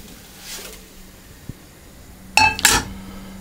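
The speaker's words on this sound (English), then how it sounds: "I'm then going to transfer that to a warm plate" A cooked pancake is lifted from the pan onto a warm plate, giving a soft knock followed by two sharp, close metallic clinks of utensil against pan and plate in an otherwise quiet kitchen.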